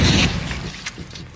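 A grenade explosion from a zombie film booms loud and close at the start, then trails off into a rumbling, crackling decay with a few sharp pops.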